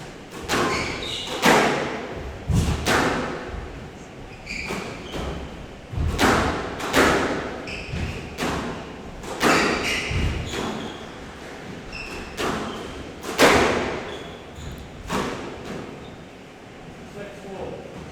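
Squash ball struck repeatedly during a Premier League division one match, sharp thuds and wall impacts spaced irregularly every second or so, echoing in the court under commentary.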